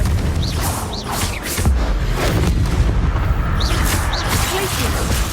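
Booming spell blasts from the Confringo fire-explosion curse in the video game Hogwarts Legacy, several bursts across a dense, loud combat mix with continuous rumble underneath.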